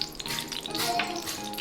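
Mustard seeds and dried red chillies fry in a little hot oil in a pan, a close, steady crackling sizzle with faint pops over a brief moment.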